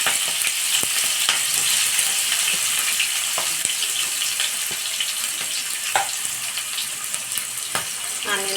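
Sliced onions and green chillies frying in a pan for gongura chicken, a loud hissing sizzle with scattered stirring knocks and taps, close up and steady across the whole stretch.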